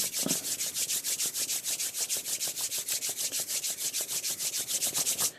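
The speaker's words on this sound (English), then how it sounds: "I do by rubbing my hands till they get warm" Two palms rub briskly together to warm up, a fast regular back-and-forth swishing of about five or six strokes per second that continues evenly throughout, close and dry with no speech.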